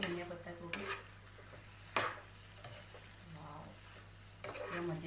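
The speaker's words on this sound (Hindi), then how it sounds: "इसे भी हम अच्छे से मिक्स करेंगे धनिया पत्ता को भी।" Coriander leaves are stirred into a pan of veg Manchurian gravy made with cabbage, with a faint background sizzle and a few soft scraping strokes and clinks of a spoon against the pan.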